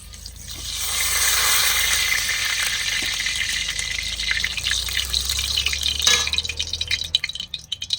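Mustard oil crackles and sizzles in a pan as greens are cooked, a loud steady frying hiss with spattering bursts and a sharper surge near the end.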